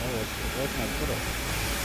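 Steam hissing from a rerouted pressure system in the horror video game Amnesia: A Machine for Pigs, a loud, continuous and even broadband hiss with a low rumble beneath it.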